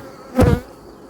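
Honeybees around an opened hive frame during a nuc-to-hive transfer, one close buzzing burst as a bee passes near, then a quieter background hum.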